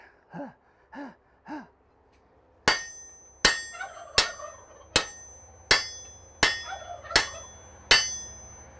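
Steel hammer blows on hot metal at a smithy anvil, forging a reverse taper: eight sharp ringing strikes at an even, steady pace, each with a bright metallic ring, after a few soft breaths.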